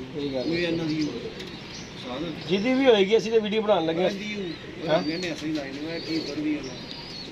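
Soft pigeon cooing repeats in low, throaty bursts beneath a voice talking nearby.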